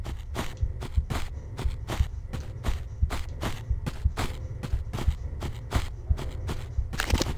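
Steady footsteps in Tomb Raider 2 Remastered aboard a ship, a close, even run of about a dozen and a half thudding steps at a walking pace, with a brief rustle near the end and no speech.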